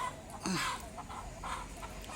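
Rooster clucking close by in a rural setting, a couple of short throaty clucks over faint background noise.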